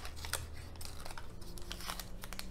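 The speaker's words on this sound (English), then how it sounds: "So we're just going to get our scissors and we're going to practice cutting." Scissors snip quietly through thin paper cupcake liners, a few soft crisp cuts and crinkles over a low steady background hum.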